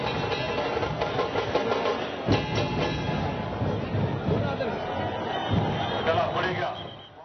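A huge crowd at the Kasba Ganpati immersion procession in Pune makes a dense, continuous roar and babble, with a voice speaking over the steady crowd noise throughout.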